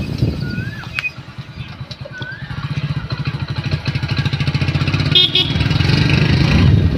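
A motorcycle rides along a wet village road on a monsoon morning, its steady engine drone close and continuous throughout, growing slightly louder, with brief bird chirps and faint wind behind it.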